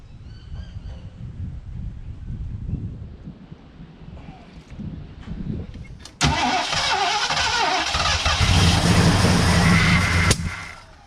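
A carbureted engine in a P6 LTD rally car limo, running low on fuel, cranks for several seconds, then catches with a sudden burst and settles into a loud, steady rough idle before cutting off abruptly, close by.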